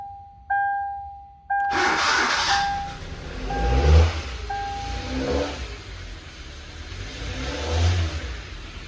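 A low-power Hyundai Accent sounds a few electronic warning chimes, then its engine revs up in two surging bursts with the accelerator pedal, quieter between them.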